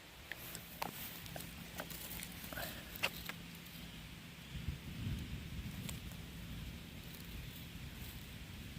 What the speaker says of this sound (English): the thunder seems like it's moving away